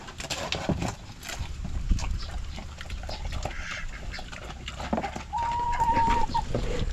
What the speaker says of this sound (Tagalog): Basta kita ko manok.